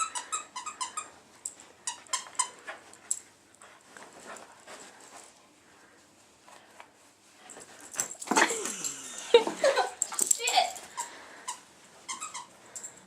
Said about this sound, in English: This is the jumpingest, lickingest dog right here.